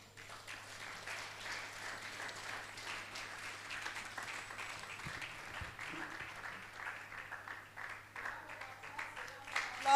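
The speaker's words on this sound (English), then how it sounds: "us a round of applause" Applause from a church congregation at a leadership summit on Ondo Road, Akure, heard somewhat distant and roomy, a steady wash of many hands clapping with a low hum beneath, swelling slightly at the end.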